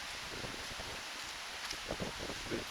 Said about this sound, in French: Un peu de vent, ça fait du bien aussi.